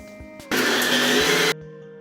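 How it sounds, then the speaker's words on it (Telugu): A kitchen mixer grinder whirs loudly for about a second, grinding cardamom with Balamrutham flour in its jar, starting and stopping abruptly between quiet moments. "వేసుకొని దీన్ని బాగా మిక్సీ పట్టుకుంటున్నాను."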